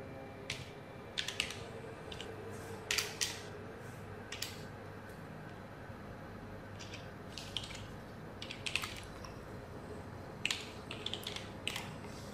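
Scattered keystrokes on a computer keyboard come as faint, crisp clicks in small clusters over a low, steady background hum, with long quiet stretches between them.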